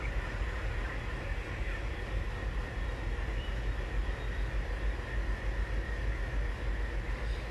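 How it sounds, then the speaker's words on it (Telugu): A train derails in a video game, heard as a continuous heavy low rumble and grinding roar at moderate level, unbroken and without talk. "అదండి ట్రైన్ మొత్తం అంతా పట్టాలు తప్పాలి"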